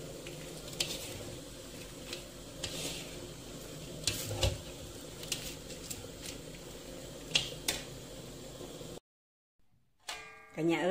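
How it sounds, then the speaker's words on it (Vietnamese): Lime-leaf chicken jerky is stirred in a pan set over a pot of water, with soft irregular scrapes and ticks over a low sizzle, fairly faint, ending in a short silence and a brief sound. "Rồi đảo trên này, thỉnh thoảng mình đảo, mình không cần đảo nhiều đâu."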